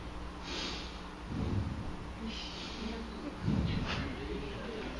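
A voice imitates a sniffing snort, two breathy bursts a couple of seconds apart against a low, steady background rumble.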